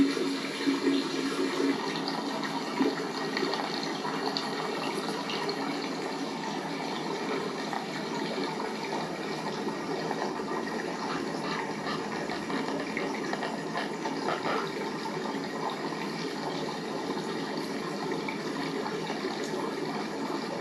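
Stream water running over obstructions placed in a gold panning setup on state land in the Adirondack Mountains, heard as a steady, moderate trickling wash that holds evenly throughout with no talking.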